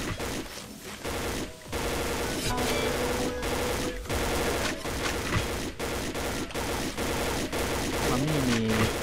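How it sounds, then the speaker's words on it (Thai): Video game gunfire from a bazooka-style shooter: rapid machine-gun bursts and loud shots fill the stretch, broken by brief gaps, with a voice talking faintly underneath. "เขายิงอะไรกันเมื่อกี"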